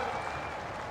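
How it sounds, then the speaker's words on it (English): A crowd applauding at a horse show jumping event at the Royal Highland Show: steady, dense clapping from a large audience, heard at moderate distance with no pauses. "You can hear the crowd in the background. They're getting excited."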